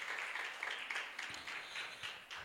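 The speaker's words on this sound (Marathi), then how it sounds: "यांचं आपण स्वागत करूया टाळ्या वाजून" Church congregation at a Sunday service applauding, a faint, distant patter of scattered clapping that rises and falls over a couple of seconds.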